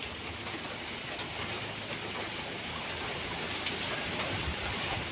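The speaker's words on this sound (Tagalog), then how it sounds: "Sumusugod sa lakas ng ulan." Heavy rain falls steadily in Quezon as a storm approaches, a dense, even hiss with no voices over it.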